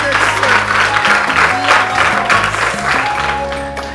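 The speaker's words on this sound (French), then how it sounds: "Applaudissez très fort" Loud audience clapping for a man at a school award presentation, sustained for four seconds over a steady musical hum, with faint voices mixed in.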